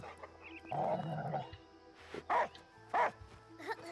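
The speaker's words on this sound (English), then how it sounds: "Because he's a dog and he likes to play." A dog in the video game Last Day of June gives several short barks and yips, loud and close, spaced irregularly over a low background hum, with no speech.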